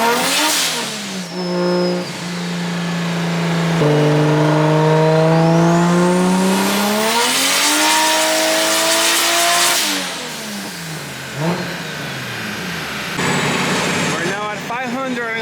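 A 2JZ-powered BMW E36 revs hard on a dyno, its engine note climbing and falling through long loud pulls with rising pitch sweeps, while voices talk over the noise.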